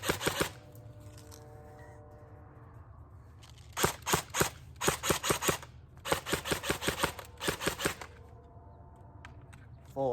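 A CYMA AK-74M airsoft rifle, fed from its original high-capacity magazine, test fires in full auto. Several short bursts of rapid, sharp mechanical pops sound close by and are separated by quiet gaps.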